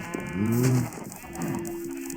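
Cows in Minecraft mooing in a quick run of overlapping low, drawn-out calls, fairly close and loud, with a second moo trailing off near the end.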